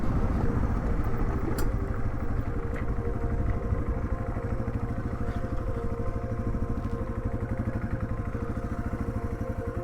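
Yamaha TW200 dual-sport motorcycle on an evening ride near aspens, its single-cylinder engine thumping steadily and close, with a rough, pulsing drone and a few faint clicks and rattles throughout.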